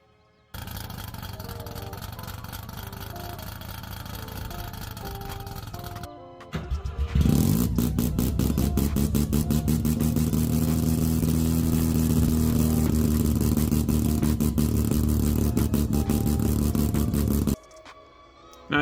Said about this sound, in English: I can get it to idle a little bit, but I think it's running a little bit too lean still.